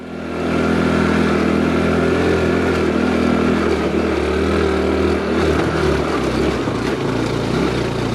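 A small Honda CT125 motorcycle being ridden on the road gives a steady, close engine drone that holds at an even level throughout, with no voices.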